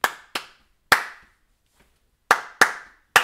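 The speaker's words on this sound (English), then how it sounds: "you could just clap it" Bare hands clap a repeated rhythm during a community sing, six sharp close claps in uneven groupings with short gaps and a longer pause in the middle, with no voices.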